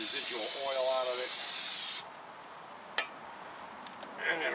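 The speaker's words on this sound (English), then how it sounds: "give it a spray down a brake cleaner, get any residual oil out of" Brake cleaner blasts in a loud, steady aerosol hiss onto the front brake hub of a 2014 Ford F-150 from the salt belt, cutting off abruptly after two seconds, followed by a faint click and a short second spurt.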